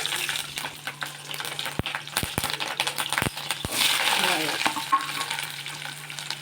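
Cinnamon, cloves, mustard seeds, crushed ginger and green chili sizzle in hot oil for tomato kuzhambu, a steady close crackle broken by sharp clicks of ingredients dropping in and stirring, swelling louder midway.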